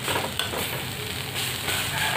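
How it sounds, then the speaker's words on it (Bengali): Leafy greens frying in a pan give a steady, close crackling sizzle that fills the whole short stretch with no talk. "আমার শাকটা ভাজা হয়ে গেছে।"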